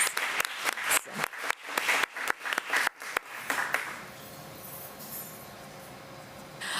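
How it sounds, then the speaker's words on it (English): A crowd claps in a brisk, dense burst of applause lasting a few seconds, then fades into quiet room noise. "a round of applause"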